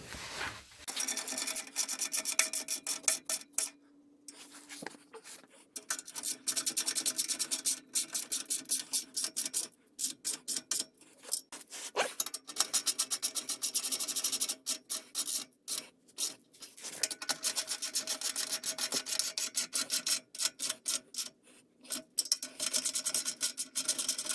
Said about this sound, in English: It's time to tighten these clamps.